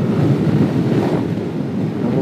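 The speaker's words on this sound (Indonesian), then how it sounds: "anginnya lumayan kenceng" Strong wind roars steadily into the microphone while riding a motorcycle on a touring trip from Parepare to Pinrang in Sulawesi, a loud, continuous buffeting rumble with no voices.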